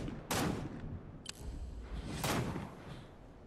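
Gunfire in the game Fortnite comes as a few loud bursts of shots with hard cracks and echoing tails, separated by brief lulls against a constant rumbling background.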